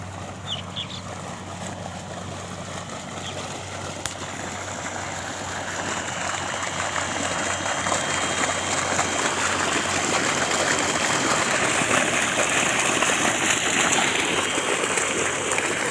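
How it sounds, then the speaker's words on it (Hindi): Water gushing steadily from a solar-powered tube well pump mounted on a small portable trolley on farmland in afternoon sun, a continuous loud rushing flow that swells slightly partway through, with faint birds in the background. "अब इसका पानी देखें,"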